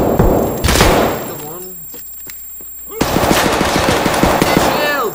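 Loud automatic gunfire in Escape from Tarkov, rapid close bursts that drop away into a quieter stretch and then return as a sustained string of shots, with a voice speaking over the start.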